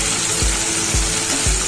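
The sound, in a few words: tempering sizzling in oil on low gas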